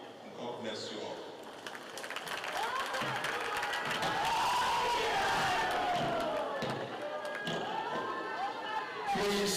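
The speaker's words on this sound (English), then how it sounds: "Please, can we make the applause louder" An audience at a live Ondo State MSME clinic event in August 2025 applauds and cheers, a sustained crowd roar of clapping and shouts that swells mid-clip, with talk over the top.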